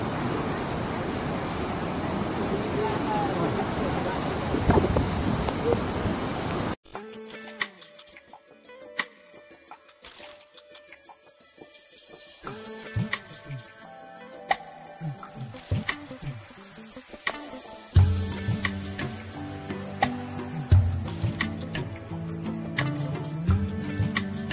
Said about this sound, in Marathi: धबधब्याचा आवाज ऐकून जणू काही आम्ही मंत्रमुग्धच झालेलो आहोत असंच वाटायला लागलं.